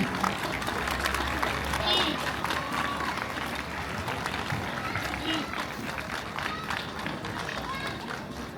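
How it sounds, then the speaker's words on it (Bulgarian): An audience applauding school students from a secondary school at a 3 March celebration in Elin Pelin: dense, continuous crowd clapping with a busy murmur of voices and children mixed in. "Още веднъж аплодисменти за учениците от Средно училище Васил Левски"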